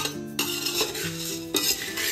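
Puffed rice dry-roasting in a pan, stirred with a metal utensil that clinks and scrapes against the pan in a few sharp strokes, close and fairly loud with a light rustle between them.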